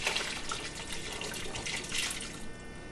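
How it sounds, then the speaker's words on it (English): Liquid marinade pours steadily into a container over an arm roast for sauerbraten, a close, continuous splashing trickle with no talking. "let me pour my marinade over it"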